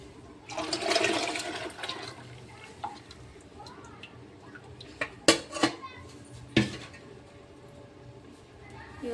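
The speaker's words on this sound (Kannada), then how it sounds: "ಈಗ ಇಷ್ಟು ನೀರನ್ನು ಹಾಕೋತೀನಿ ರೀ ಇದಕ್ಕೆ." Leftover water is poured into a pot for a Holi festival dish, a loud splashing gush near the start, followed by quieter sharp clinks of metal utensils and pots.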